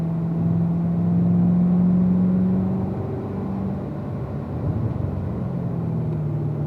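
A car engine pulls at full throttle down the middle straight of a racetrack, a steady droning hum heard from inside with a rising tone, easing slightly then holding on.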